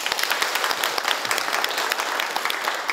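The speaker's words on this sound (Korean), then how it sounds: "박수 한번 해주실 거예요" An audience at the launch ceremony of a Gyeongbuk agricultural transformation committee gives a dense round of applause, loud and close, many hands clapping steadily for the whole stretch.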